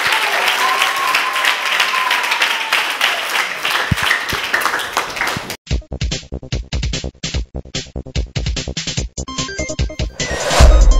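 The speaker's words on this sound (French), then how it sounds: "Acclamez très fort pour la gloire de Dieu" Loud applause from an audience in a church TV studio, dense clapping near and continuous, followed by sharper rhythmic clapping with music-like pulses toward the end.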